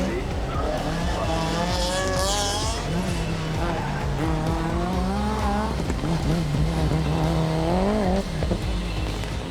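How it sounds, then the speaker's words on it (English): Rally cars storm up the Chateau Impney hillclimb course, engines roaring loud and close with rising and falling revs, tyres squealing, and a commentator talking over the din. "The competition was fierce as these superb rally cars chewed up the course"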